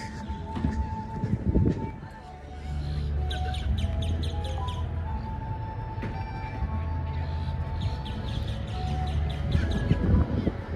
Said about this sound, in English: There are a lot of birds out.